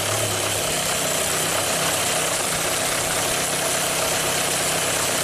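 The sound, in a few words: 1997 Kia Sportage engine surging idle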